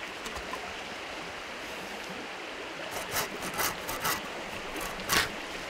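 A bushcraft bucksaw cuts green wood, giving a soft, steady rasping under a broad hiss, with a few brighter stroke bursts in the later seconds.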